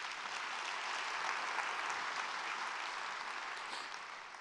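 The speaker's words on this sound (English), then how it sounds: "Let's give them another round of applause." Audience at the Long Beach State of the City event applauding, dense steady clapping from a large crowd that holds for several seconds and eases slightly at the end.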